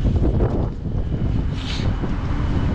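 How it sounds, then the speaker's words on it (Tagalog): Gusty wind buffets the microphone outdoors near the water with a steady, loud rumble and a brief hiss partway through. "Mahangin na naman oh."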